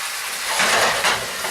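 Seafood saltado of mixed seafood and tomatoes sizzling in a hot pan, a steady close hiss of frying that swells briefly as the food is tossed, with no voices.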